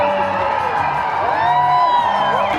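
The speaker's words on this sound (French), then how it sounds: "il y a une marche pour les droits LGBT, ils viennent de passer juste là, il y a une foule en délire" Crowd at an LGBT rights march in Lisbon cheering and whooping, a dense, loud roar of many voices with rising shouts and whistles near the listener, someone talking over it.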